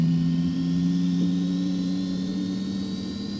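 Cessna Citation C525 jet engine number one spooling up during a simulated start in a flight simulator, a steady loud turbine whine with rising tones and a constant low hum, no voices.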